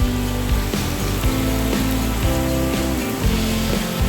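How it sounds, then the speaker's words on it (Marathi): Heavy storm rain in wind pours and drums loudly and steadily on surfaces close by, with a dense, continuous patter and a thick low rumble underneath. "या साईडला पण बघू शकतास वादळ पाऊस होतो."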